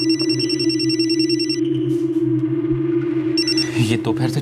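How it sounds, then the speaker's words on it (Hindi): A telephone rings with a bright, repeating electronic trill, starting and stopping, then starting again, in a Hindi crime drama scene. A steady low hum runs underneath, and a short burst of noise comes near the end. "ये दोपहर से चौथी बार फोन कर रही है स्वाति यार"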